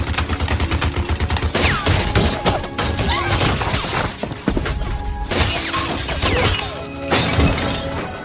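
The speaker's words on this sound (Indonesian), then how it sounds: "mesin gun itu pun ditembakkan" Rapid bursts of loud gunfire crackle in quick succession, repeated volleys with brief gaps, harsh and close throughout.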